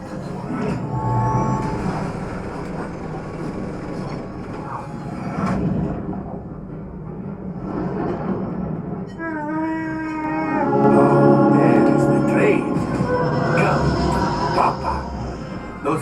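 A train rumbles through the Millennium Falcon: Smugglers Run ride at Disney's Hollywood Studios, a dense, noisy roar of ride effects with sweeping electronic tones and voices talking over it throughout.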